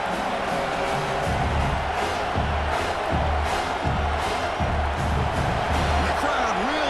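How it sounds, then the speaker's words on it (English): Football stadium crowd at a South Carolina playoff game roaring steadily near the goal line, a dense continuous wash of cheering and noise throughout, loud and unbroken, with no clear voices standing out. "The crowd really making some noise now, trying to help out this defense to get this stop near the goal line."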